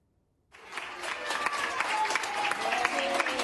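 Hospital intensive care staff applauding as a recovered COVID-19 patient leaves the unit, clapping that starts suddenly after a brief silence and continues steadily, moderately loud, with some murmured voices mixed in.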